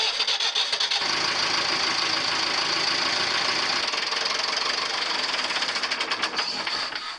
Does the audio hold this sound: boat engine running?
yes